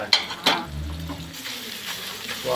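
Dhokla pieces hit a hot tempering of neem leaves, mustard seeds, cumin and chilli, giving two sharp sizzling bursts followed by a steady frying hiss and a few soft stirring scrapes.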